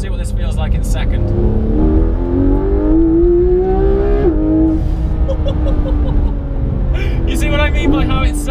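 A Porsche 991 GT3 RS engine with a stock exhaust revs and climbs through the gears, roaring loudly and continuously up close, while people talk over it.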